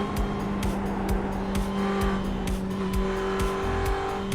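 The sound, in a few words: race car driving in a sim racing video game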